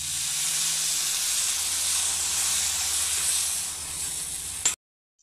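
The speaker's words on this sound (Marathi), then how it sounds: "थोडीशी पाणी टाकून परतवून घेतली चटणी" Steady, bright sizzling hiss of a pan of onion chutney after a little water is added, continuing for several seconds before cutting off abruptly into silence.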